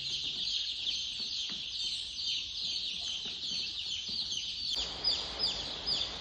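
Six-day-old chicks in a brooder cheep and cluck continuously in a dense, high-pitched chorus, close and steady, with no voices.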